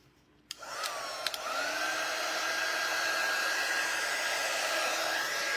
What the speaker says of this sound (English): let's hit it with the dryer one more time